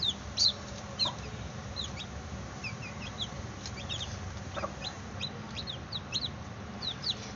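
Young chicks peep softly in quick, high little chirps scattered across the clip, with faint clucking underneath, all quiet and close against a low, steady background hum.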